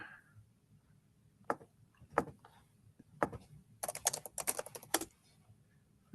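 Typing on a computer keyboard while switching to Greek input, scattered single keystrokes at first, then a quick dense run of clicks, close and fairly quiet with no talk.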